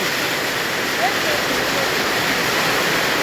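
Floodwater from a heavy rainstorm rushes past in a steady, loud, roaring torrent that fills the whole scene, close by and unbroken, with no talk in the moment.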